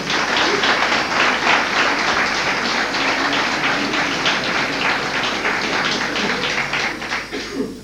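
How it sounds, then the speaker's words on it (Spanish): Steady, loud applause from a lecture audience welcoming a speaker on UFOs and parapsychology, dense clapping sustained for the full length and tapering slightly at the end. "un fuerte aplauso."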